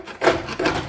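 A flathead screwdriver chips rust off a part from a resto-mod bike being prepared for a build. Two short, close scraping rasps, separated by a brief pause.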